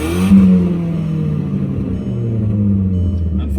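2004 Volkswagen Jetta 2.0-liter four-cylinder engine with an exhaust leak, idling and revving close up, a loud low rumble whose pitch rises and falls with the throttle, with no talking.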